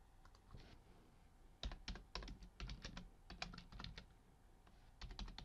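Quick bursts of clicking keystrokes on a computer keyboard, close and quiet, in irregular clusters broken by short pauses.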